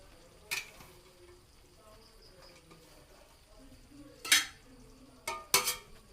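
Chicken curry in a pan being stirred after chopped coriander and mint are added, with a few sharp scraping clinks of a spoon against the pan, three short bursts amid a quiet kitchen background.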